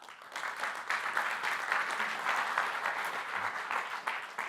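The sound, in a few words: audience applause welcoming a panel speaker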